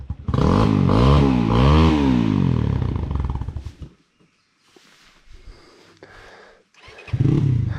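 A Rieju enduro motorcycle climbs a hard enduro trail through landslide-strewn Chandragiri Hills. The engine revs loud and close with rising and falling pitch for about four seconds, drops to quieter clattering and rumbling, then roars back at the end.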